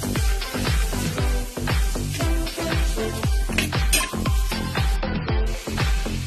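Masala being sautéed and stirred in a pan for Kerala-style karimeen (pearl spot fish) mappas, with steady sizzling frying and rhythmic scraping strokes of a spoon against the pan, close and continuous.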